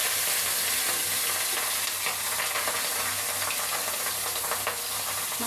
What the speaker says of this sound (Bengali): মাছটাকে আমরা হালকা ভাজা করে নেব, বেশি কড়কড়াও করবো না